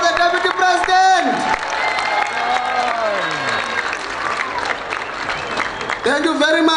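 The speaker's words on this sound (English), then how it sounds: "Can you stand up and clap hands of the Deputy President?" Audience applause and cheering for South Africa's Deputy President at a World AIDS Day 2019 launch event, a loud sustained crowd clapping with voices and whoops mixed in, an announcer's voice speaking over it.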